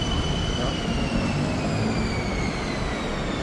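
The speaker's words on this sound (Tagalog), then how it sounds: "yung kanilang MRT train dito" Steady, close rumble and hiss of a Bangkok MRT train running near Terminal 21, with a high whine sliding gradually downward as it moves along, continuous and fairly loud throughout.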